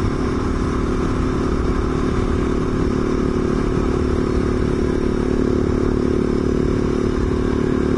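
A big single-cylinder thumper motorcycle with twin counterbalancers drones steadily while riding on the open road, a loud continuous engine rumble mixed with wind rush, with no talk over it.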